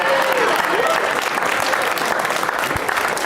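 Audience clapping at a comedy podcast taping, continuous full applause from a crowd with scattered whoops, loud and close throughout.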